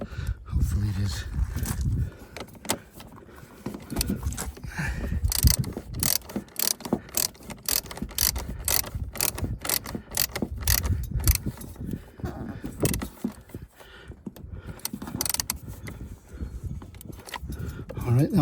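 A fitting being tightened on a travel trailer gives repeated ratcheting clicks and mechanical clatter, fairly close and steady, while a person talks over the work.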